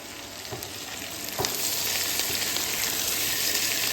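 Vegetables sauté in oil in a pan while chicken waits to go in, giving a steady close sizzle. It holds throughout with a few soft stirring clicks and a brief louder spatter near the start.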